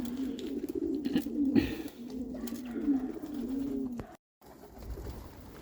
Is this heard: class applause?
no